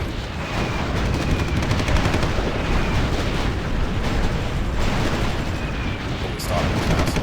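Artillery barrage in the war strategy game SR2030, set around Paris, with dense rumbling explosions and rapid gunfire crackling continuously and loudly throughout.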